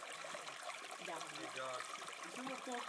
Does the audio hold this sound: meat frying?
no